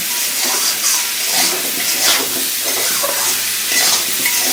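Parboiled potatoes and pumpkin frying in a pan for khichuri, a loud close sizzle with repeated stirring and scraping strokes rising and falling in waves.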